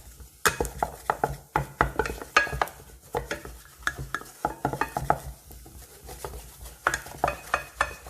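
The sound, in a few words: stir-frying while scraping the pot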